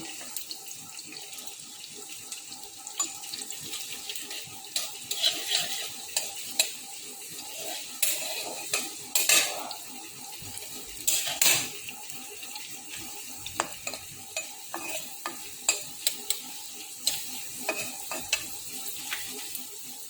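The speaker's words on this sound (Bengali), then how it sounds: "পেঁয়াজ গাজর এগুলো দিয়ে দেব।" Onion and carrot fry in a pan, a steady sizzle with frequent clinks and scrapes of stirring throughout, fairly close and moderately loud, with no talking.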